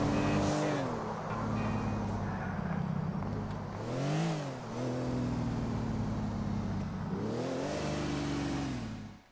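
A car in the video game GTA 4 drives with a steady engine drone, revving up in swells that rise and fall a few times, close and loud with no talking.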